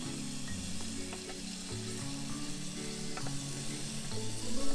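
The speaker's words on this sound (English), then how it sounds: "Now we're going to keep frying our chicken until at least it's nice and golden brown on all" Chicken pieces and Vidalia onions sizzle steadily in a Power XL cooker inside an RV, a continuous close frying hiss with faint stirring clinks and no talking.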